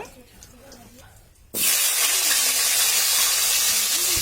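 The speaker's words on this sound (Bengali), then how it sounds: "এখন এই কড়ার মধ্যে যে তেলটা আছে এই তেলের মধ্যেই আলুগুলো ছেড়ে দেব" New round potatoes hit hot oil in a karai, bursting into a sudden loud, close sizzle after a quieter stretch with a faint voice, then holding as a steady dense hiss.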